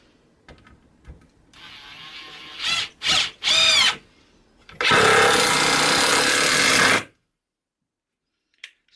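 A Bosch PDR 18 LI 18-volt cordless impact driver drives a decking screw into wood: short bursts of whirring, then a long loud two-second stretch of rapid hammering impacts, ending abruptly into silence.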